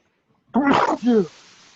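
Two quick sneeze-like bursts from one person, close and loud, the second following right after the first, then quiet room noise.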